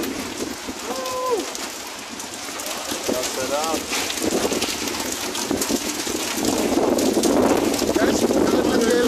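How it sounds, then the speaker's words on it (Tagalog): A hailstorm falling outside an office in Dammam makes a dense, steady rush of hitting ice that swells louder toward the end, with a few short voices and exclamations over it. "gusto namin manood ng hailstorm"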